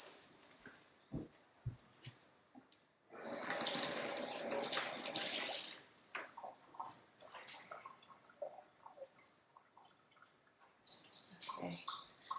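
Kitchen tap water runs for a few seconds while something is rinsed, a steady close gush set between sparse knocks and clatter of dishes, with quiet moments before and after.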